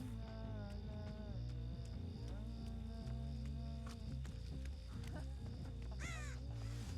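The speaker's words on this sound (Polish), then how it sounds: "Słyszałem kruka przed chwilą" A crow caws several times in Dead by Daylight, its rasping calls rising over a steady droning hum and layered game ambience, loudest near the end.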